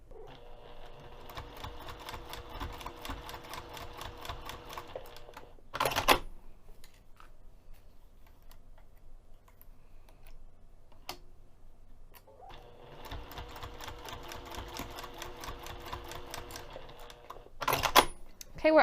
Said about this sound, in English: I'm going to take this over to the sewing machine, and I'm going to sew on the fabric 1/8 of an inch away from the edge